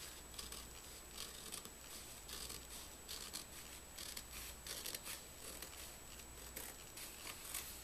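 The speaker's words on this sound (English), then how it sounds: "So now I have to cut out the image." Scissors snip steadily through paper, cutting out an image for a homemade Harry Potter Tales of Beedle the Bard prop replica; a close, quiet run of small crisp cuts and rustles with no voices.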